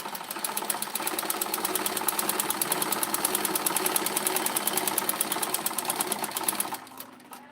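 A sewing machine stitches a peplum blouse in one long, steady, rapid run, then slows and stops near the end.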